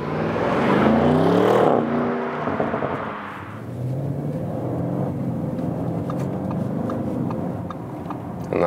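Audi RS7 Sportback, a 600 hp 2020 GT, driving through the city in normal mode; a loud engine and road whir rises then settles into a steady lower drone, heard alone with no talk.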